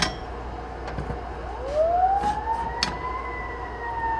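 Wailing city emergency vehicle siren rising and sweeping in tone, fairly close and prominent over steady traffic rumble, with a few brief knocks and clicks in the background.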